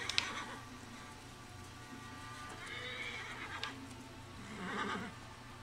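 A horse in Assassin's Creed Origins whinnies sharply at the start, then hooves clip-clop and snorts follow over quiet game ambience, with another whinny-like burst near the end.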